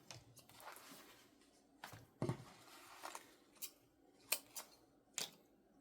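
Several crisp scissor snips, irregularly spaced, close by with quiet rustling between cuts; no talking.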